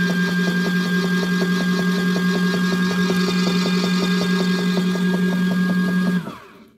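A mini washing machine runs with a steady mechanical hum and rhythmic churning pulse, loud and close, then switches off and winds down near the end.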